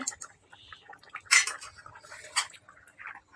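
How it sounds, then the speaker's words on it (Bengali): A metal lid is lifted off a pot of simmering fish curry, giving a few close, bright clanks and scrapes of metal on metal, spaced irregularly over a few seconds. "ঢাকাটা এখন খুলে দেখবো তরকারিটা কেমন হয়েছে"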